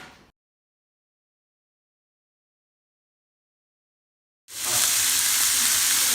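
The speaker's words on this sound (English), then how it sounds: "I just put in the onion. We're mixing the onion and until it gets a golden color." Chopped onion sizzles in a hot pan for a shakshuka, a steady bright hiss that starts abruptly after a long stretch of silence and holds loud to the end.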